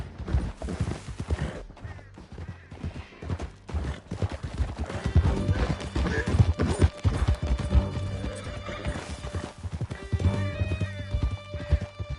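A horse gallops with quick clip-clopping hooves and neighs during a chase through a canyon in the western game Red Dead Redemption 2, loud and steady under a driving musical score.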